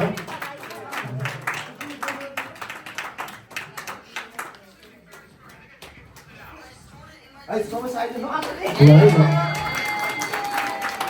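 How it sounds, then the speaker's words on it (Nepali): Guests at a Nepalese New Year party clap in a rapid patter near the start, with talk and chatter throughout and a louder burst of voices and noise toward the end. "सबैजना थपडी बजाइदिनु त"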